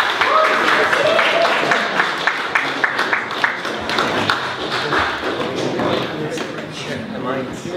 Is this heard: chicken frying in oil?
no